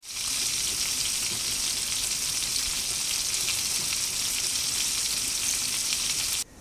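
Bacon sizzles loudly and evenly in a frying pan on a stovetop, a dense continuous crackle close up that holds for about six seconds, then cuts off abruptly.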